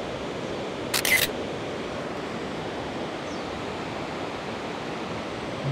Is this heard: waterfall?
yes